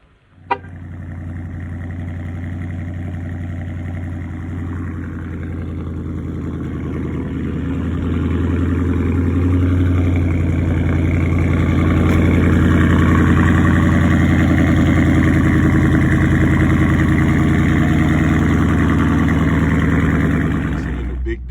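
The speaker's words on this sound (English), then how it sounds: "But now I'm gonna give you the cold start." A 2019 Dodge Charger Scat Pack with the 392 engine cold-starting on a 34-degree morning, a loud low rumble that swells over the first seconds and settles into a steady, heavy idle close by.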